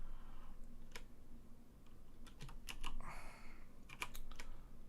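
Sparse keystrokes on a computer keyboard click and tap in small irregular bursts, close and fairly quiet over a faint steady room hum, with no talking.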